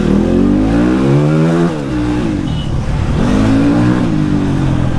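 A new dirt bike engine revs loud and close as the accelerator is worked, its pitch rising, dipping around the two-second mark and then climbing again.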